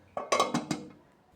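A lid goes onto a pan of frying bata fish with a few quick metallic clinks and clatters, close and brief, then a fading ring.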